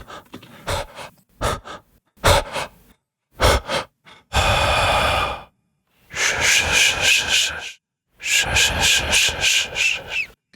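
A recorded human breath for a ghost effect: a few faint clicks and rustles, then three long raspy breaths, close and loud, with the harsh exhale much louder than the intake.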